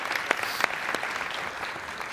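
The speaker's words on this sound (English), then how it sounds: "Applause for our troops here." Audience applause at a hypnosis seminar, a moderate patter of many hands with a few sharp nearby claps standing out, continuing steadily for about two seconds.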